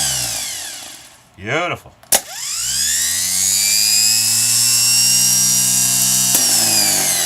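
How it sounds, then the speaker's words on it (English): A rebuilt K5 Blazer 10MT starter motor on a bench whirs up after a click, its pitch climbing into a loud, steady high whine. One brief spoken word comes just before it settles. "it should spin up the solenoid and start spinning up"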